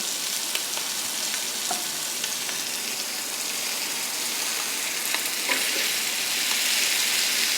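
Mackerel fish frying in coconut oil, giving a steady, close sizzle with light crackles and pops throughout and no talking.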